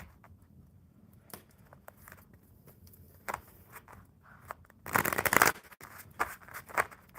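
A deck of cards is shuffled close by: quiet scattered flicks, then a dense riffling burst of a second or so, followed by a few sharp snaps and taps, with no talk.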